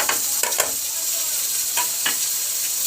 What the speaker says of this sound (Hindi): अब इनको अच्छे से हमने भून लेना है, ठीक है। तकरीबन 5 मिनट तक हमने इसको भूनना है